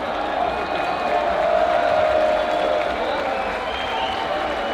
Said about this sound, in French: Vous pouvez les applaudir chaleureusement.